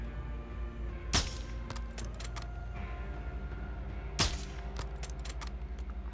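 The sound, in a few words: gunshots from video game Modern Warfare II campaign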